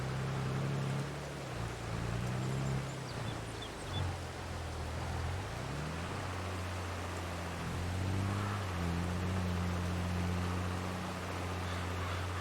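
A tractor engine in Farming Simulator 22 drones steadily while pulling a fertilizing and planting implement, its low hum shifting in pitch as the load changes, loud and continuous over broad noise.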